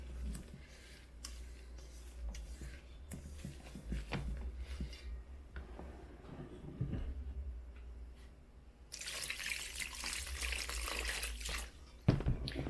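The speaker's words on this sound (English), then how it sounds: "you want to pour in your liquid, your water" Water pours in a steady stream for a few seconds into a bowl of masa for guava atole, after quiet clicks and kitchen handling noises.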